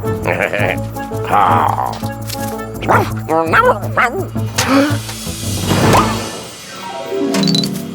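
The cartoon dog Odie from The Garfield Show barks and yips in a string of short, bouncy cartoon barks and whimpers, with a character's voice talking in between amid light music and effects.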